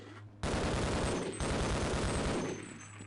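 Rapid revolver gunfire from Half-Life: Blue Shift, loud and dense shots that overlap into a continuous burst for about two seconds with a short gap, then trailing off near the end.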